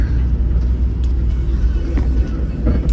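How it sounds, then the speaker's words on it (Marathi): A passenger vehicle pulls away, giving a loud, steady low engine rumble that holds evenly throughout with a few faint knocks, and no voices. "गाडी हालायला लागली."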